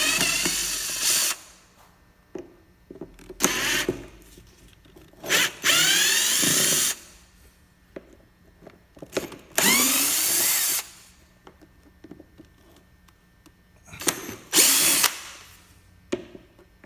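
A power drill loosens Torx number 20 screws on a Corvette C6 air filter in repeated short, loud whirring bursts separated by quiet gaps.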